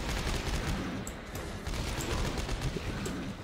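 Rapid automatic gunfire rattles nonstop in co-op Dead Space 3 combat, a dense, fairly loud burst of shots sustained throughout with no break.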